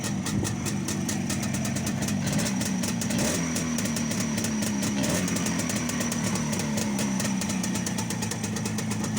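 A restored Jawa 360 motorcycle engine idles with a rapid, even pulsing beat and faint mechanical ticking, steady and close for the whole stretch, with a brief dip in rhythm partway through and no speech.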